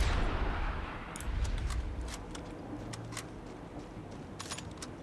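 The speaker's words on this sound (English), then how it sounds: "There literally aren't enough people left alive to even hear my gunshots." Gunfire in the stealth shooter Sniper Elite: Resistance, heard as a series of sharp, brief reports spread across the stretch over a dense, rumbling game soundscape, with no talk.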